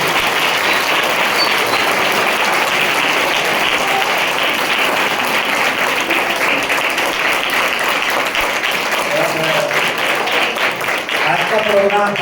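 An audience at a school Christmas program for visually handicapped children gives dense, steady applause that fills the whole stretch, and a few voices come through near the end.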